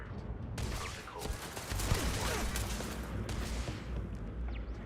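Gunfire from a gun in the video game Starfield: dense, rapid overlapping shots and bursts over a low rumble, fairly loud and continuous throughout.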